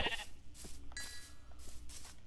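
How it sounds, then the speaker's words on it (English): A brown sheep in the Minecraft video game bleats in a few short, nasal calls spaced apart over a low background hum, with some faint game noises between them. "It's a brown sheep!"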